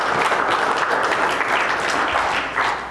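A church congregation claps together in a steady, dense burst of applause that holds at full strength throughout, with no talking over it.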